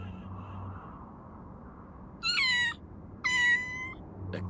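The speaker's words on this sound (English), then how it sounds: "A cat? You frightened me for a second, kitty." Two clear, bright cat meows follow one another about a second apart in the No More Heroes video game, sounding over a quiet low rumbling background with no speech.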